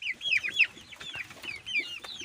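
Chickens cluck in their coop in a series of close, rapid, rising clucks and short calls that repeat irregularly with no talk.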